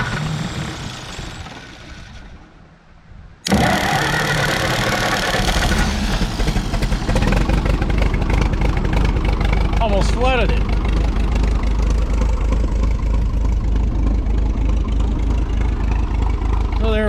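An old tractor, once used by a roofing company, idling right after being choked: a loud, steady, rough mechanical chug that runs continuously at close range following a brief quieter stretch and a sharp start.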